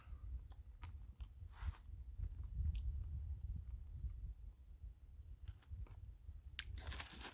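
Trader Joe's Spicy Chakri Mix, a crunchy snack, is chewed up close in a quiet room, with irregular crisp crunching bursts over a low mouth rumble and no talking.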